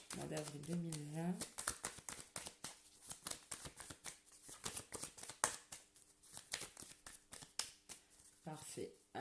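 Tarot cards are riffled and shuffled in rapid crisp flutters, then drawn one by one, close and quiet, with someone talking at the start and end.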